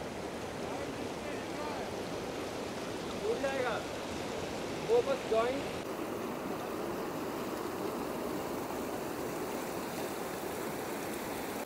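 A mountain river rushes steadily through a snow-covered valley in North Sikkim, with broadband water noise running the whole way. A few brief voices rise faintly over it near the middle.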